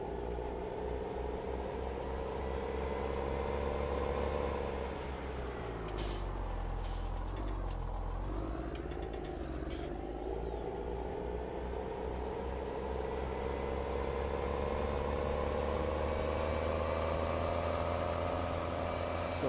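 Case Steiger tractor mod engine in Farming Simulator 19: a steady, deep diesel drone that runs the whole time, with a brief hissing air-brake release and a few sharp clicks partway through.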